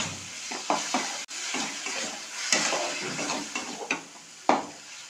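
Soaked lentils are tipped into a hot pan for a prawn and masoor dal dish and sizzle, with stirring and scraping along with a few sharp knocks on the pan, moderately loud and close, with no voices.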